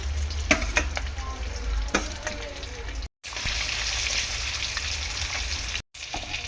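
Pieces of catla fish frying in oil in a pan, a steady crackling sizzle with scattered pops and stirring scrapes, close and moderately loud, broken by two brief silent gaps.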